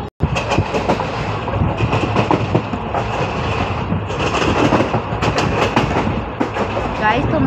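Guntur Aurangabad express train arriving at Aurangabad railway station, a loud continuous roar of wheels and rattling carriages with rhythmic clickety-clack over the rails, close by and steady throughout.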